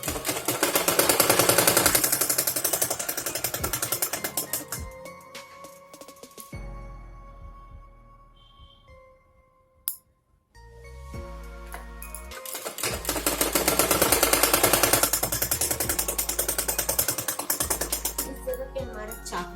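A sewing machine stitching two layers of suit fabric for a boat-neck suit, running in fast rattling bursts up close, stopping for a quiet pause with a sharp click, then starting again at full speed.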